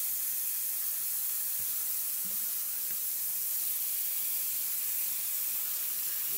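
Fish fries in a pan right after being flipped, a steady faint sizzle and hiss with no pauses and no talking.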